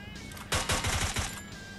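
A UMP submachine gun in Free Fire fires a short burst of about five quick, loud shots landing a headshot, standing out clearly over quieter game ambience.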